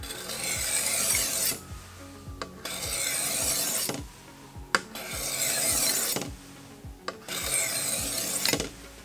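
Knife blade pushed across a coarse-to-fine grit sharpening stone, rhythmic gritty scraping strokes in four longer passes, each broken by short pauses with light taps, close and clear.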